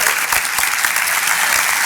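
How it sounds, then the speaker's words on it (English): Breakfast audience applauding an airport director receiving an award, a close, full burst of steady clapping filling the whole moment. "Tristan, a round of applause."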